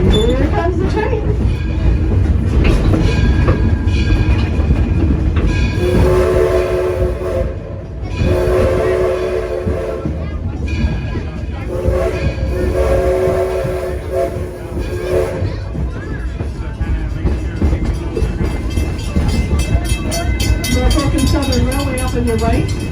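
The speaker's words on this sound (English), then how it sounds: "let's listen to the North American signal for Here Comes the Train" A North American train horn sounds the here-comes-the-train signal, loud and close in long sustained blasts with short breaks, over the constant rumble of a moving passenger train on a ride, with voices mixed in.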